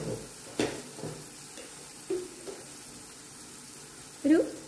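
Turmeric and chili powder sizzle softly in a pan while a spoon scrapes and stirs in a few scattered strokes, close but quiet, with a louder scrape near the end, while cooking an elephant foot yam dish.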